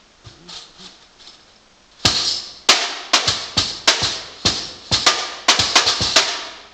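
A sandunga, a traditional Canarian instrument, strikes out a polka in a run of sharp, loud percussive beats after a quieter opening, close and unaccompanied by talk.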